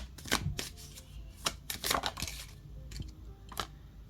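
Tarot cards are shuffled by hand in a series of crisp riffling bursts and soft taps, close and fairly quiet, with short pauses between the bursts.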